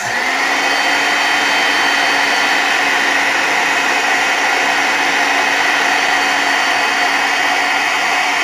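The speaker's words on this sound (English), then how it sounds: "Where's my heat gun?" A loud, constant blowing roar of a heat gun used in card making runs steadily from start to finish, with a high whine over the rushing air.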